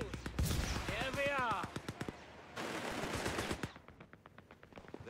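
An MG 42 machine gun in the Company of Heroes 3 battle game rattles in rapid bursts of shots, loud and close, under shouted voices and game chatter, then tapers to scattered distant shots.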